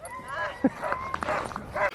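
Sled dogs at a cold-weather dog sledding race, a few short, fairly close barks and yips mixed with excited whines, with people talking over them.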